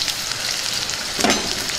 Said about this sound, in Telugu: ఇప్పుడు పచ్చిమిర్చి వేసుకుందాం